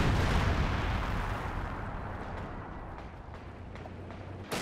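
.50 cal machine gun fire in Company of Heroes 2 suppressing an infantry squad, heavy booming bursts with a strong low rumble that starts loud and gradually fades, a few sharp shots near the end.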